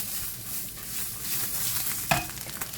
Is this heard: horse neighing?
no